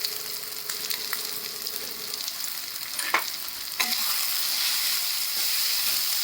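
Baby shrimp (ola javla) sautéing with turmeric and homemade yellow and black masala, a steady sizzle with scraping stirs, growing louder and denser in the second half.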